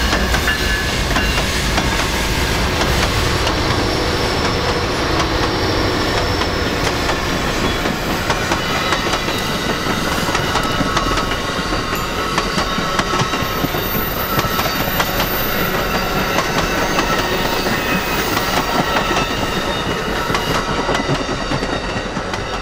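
Amtrak train hauled by Siemens Charger locomotives climbing the steep Raton Pass grade near the ghost town of Morley, a steady loud rumble with rail clatter and wheel noise filling the whole span, no voices.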